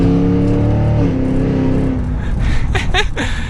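A 2023 Cadillac Escalade V 4WD growls through its exhaust while driving, a loud deep engine tone that rises in pitch, then shifts into a rougher revving burble.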